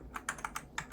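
Quick keystrokes on a computer keyboard, about eight close, light clicks in a fast uneven rhythm with no talk.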